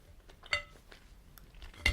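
Someone chews a Nestlé Smarties milk chocolate sharing block studded with mini Smarties, with soft close mouth sounds and a couple of sharper bites in the quiet.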